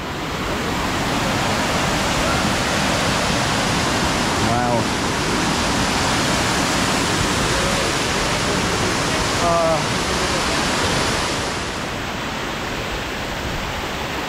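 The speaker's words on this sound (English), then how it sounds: "And here's the small waterfall," Steady, loud rushing of Mali Slap, a small waterfall on the Una in Bosnia, fills the scene, a constant broadband splash with a couple of brief faint tonal chirps over it.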